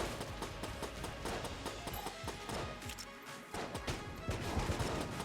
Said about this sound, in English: I thought I could get away from the explosion